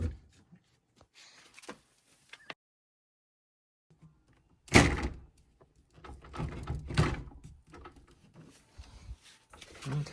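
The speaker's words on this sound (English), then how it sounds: "open the door obviously" Bifold closet or pantry door opened and closed after its gap is adjusted, scattered light knocks and rattles, then a loud thunk followed by several clattering bumps and shuffling handling noises nearby.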